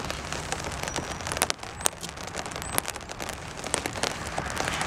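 Steady rain pattering on surfaces outdoors, a dense close hiss with scattered louder drops throughout.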